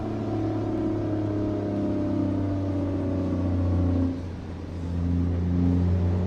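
A truck engine in American Truck Simulator drones loudly and steadily with a low rumble, briefly easing off before revving back up.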